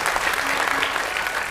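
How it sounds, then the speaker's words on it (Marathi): A crowd claps at a devotional kirtan gathering in rural Maharashtra, a dense, steady wash of applause lasting over a second without any speech. "टाळ्या वाजवा कार्यकर्त्यांच्या नावाने"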